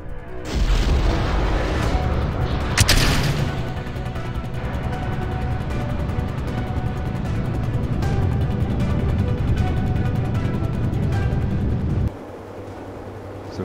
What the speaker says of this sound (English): Successful liftoff of the third space shuttle launch in this video.